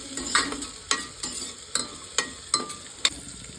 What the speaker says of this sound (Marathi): गाजर आहे मटार आहेत आणि बीन्स आहेत दोन मिनटं तेलामध्ये परतून घ्यायचं